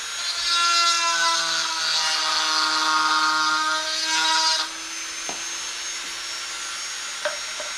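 A Dremel rotary tool whines steadily and loudly up close for about four and a half seconds, then cuts off abruptly, leaving a quiet room with a couple of faint clicks.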